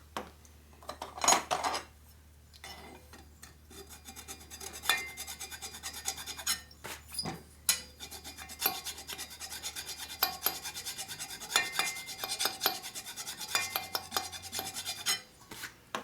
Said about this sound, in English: File it flat again.